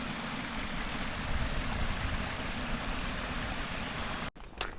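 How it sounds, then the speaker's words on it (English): Water runs down over the stones of a hill trail toward Nethy Bridge in the Scottish Highlands, making a constant, close, rushing gush that cuts off abruptly near the end. There are no voices. "You see all the water flowing down the stones."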